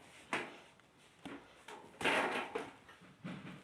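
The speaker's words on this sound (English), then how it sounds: "Pull out the door." Glass door of a Hisense fully automatic washing machine being pulled off during servicing, with a few knocks and plastic-and-metal clunks spread out close by at low volume, and no talking.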